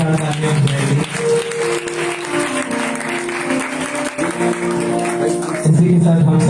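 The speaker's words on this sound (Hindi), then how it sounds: "इस खूबसूरत कलाम के लिए ऊपर जोरदार तालियां बजाएंगे।" An audience at a Passover sermon applauds loudly throughout, a dense, sustained wash of clapping over music and voices that keep going underneath.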